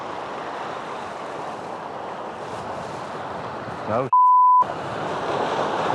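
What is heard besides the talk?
ocean waves breaking on coastal rocks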